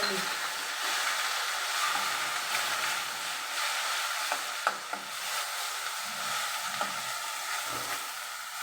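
A chopped onion sizzling in hot oil with mustard and cumin seeds, a continuous crackling hiss with occasional light clicks and knocks from stirring.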